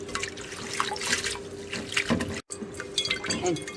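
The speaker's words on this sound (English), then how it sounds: "wash until the water is clear like this" Water sloshes and splashes steadily as seaweed is rinsed by hand in a basin, with a brief gap of silence partway through.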